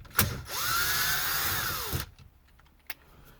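A power drill backs screws out of a radio in the console of a 2013–2018 Ram truck, one short whirring run that spins up and winds down, framed by a few close clicks and taps.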